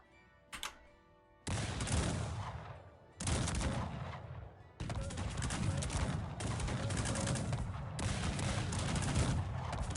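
Musket volleys from the video game Cossacks 3 crack out in several loud, sustained bursts of massed gunfire. One starts abruptly after a short quiet lead-in, and each runs for a second or more before the next.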